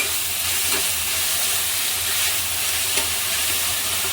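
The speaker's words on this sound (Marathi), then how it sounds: "तर याच्यामध्ये लगेच ही धुतलेली मेथीची भाजी टाकली आणि छान" Washed fenugreek leaves fry in a hot pan for a Marathi home meal, a steady dense sizzle and hiss running throughout with faint stirring clicks, no voices.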